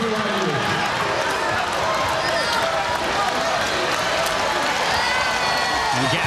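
Crowd at a college volleyball match between Hawaii's Rainbow Warriors and BYU applauding loudly, a dense continuous wash of clapping and cheering that stays at full strength from start to end.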